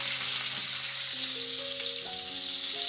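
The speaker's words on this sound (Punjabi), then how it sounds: "ਹੁਣ ਇਹ ਪਿਆਜ਼ਾਂ ਨੂੰ ਨਾ ਆਪਾਂ ਘਿਓ ਦੇ ਵਿੱਚ ਭੁੰਨਣਾ ਸ਼ੁਰੂ ਕਰ ਦਵਾਂਗੇ" Long, thickly cut onions frying in ghee, a steady close hiss and sizzle running continuously with faint stirring underneath and no talking.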